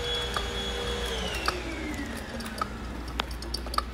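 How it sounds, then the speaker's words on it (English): A vacuum cleaner drones from another room during carpet cleaning, a steady whine that slowly drops in pitch, with a low hum beneath and a few faint clicks. "we're running the vacuum in the back"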